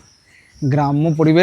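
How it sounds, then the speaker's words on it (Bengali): Crickets chirp in a quiet Sundarban village: a thin, steady, faint trill runs in the background while a person starts talking over it partway through. "ঝিঝির ডাক অবধি শোনা যাচ্ছে"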